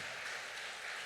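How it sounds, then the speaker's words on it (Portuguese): Church congregation clapping at a family service, a dense, steady wash of applause filling the whole second with no pauses and no voices standing out. "eu quero um aplauso"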